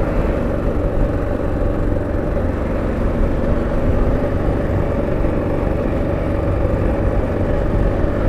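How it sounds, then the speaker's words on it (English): A car engine chugs in second gear at about 13 mph with the clutch being ridden, a steady low rumble with no clear revs, close and continuous throughout. "Second gear, it's chugging at 13 mile an hour."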